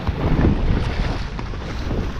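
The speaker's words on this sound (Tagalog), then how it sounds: "Lakas ng alon." Loud, rushing wind and churning water from a boat out on rough sea off Baseco, Manila, a steady buffeting roar with wind noise hitting the microphone.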